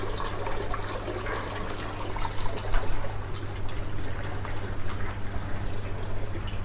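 Water trickles steadily through the simple feed line of a potted-gutter flood-and-drain aquaponics system, running down from the fish tank as a continuous, even splashing with no voices.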